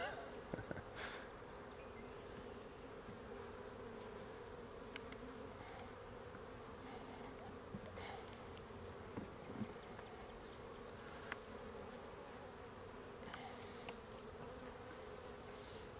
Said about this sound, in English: just having fun with some bees so far